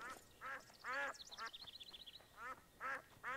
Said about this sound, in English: Oh, shut up, ducks.